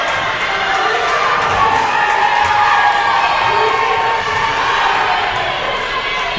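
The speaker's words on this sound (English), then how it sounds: "Brings the crowd to their feet." Crowd cheering and shouting at a college women's volleyball match between Tabor and York College, a loud, sustained roar of the indoor audience filling the whole stretch without a break.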